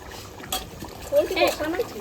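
Water trickles and splashes into a pot of cooking goat meat and potatoes, brief and close, with a voice breaking in partway through.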